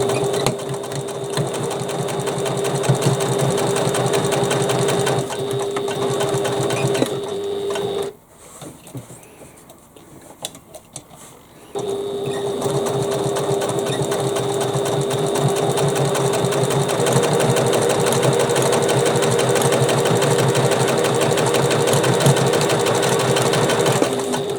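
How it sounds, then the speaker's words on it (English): A sewing machine stitches a Molly bag with a steady, fast mechanical whirr and rattle, running continuously, pausing briefly midway, then resuming at the same even pace. "I double stitched on the corners"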